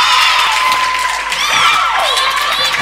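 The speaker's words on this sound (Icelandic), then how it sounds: "Það fagnar þessu vel og innilega, Káa stelpur." Girls' volleyball team KA and their supporters cheer and celebrate a point during an indoor match against Þróttur Nes, a loud sustained crowd roar with shouts and whoops filling the whole moment.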